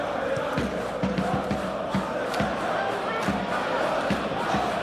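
A stadium crowd in the PES 2021 football video game roars and cheers steadily throughout, a dense continuous wash of noise with scattered thumps, while a commentator talks over it.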